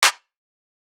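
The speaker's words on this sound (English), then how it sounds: "I'm just going to put one clap in so it sounds like this" One short, dry electronic clap, crisp and bright, cutting off almost immediately with silence after.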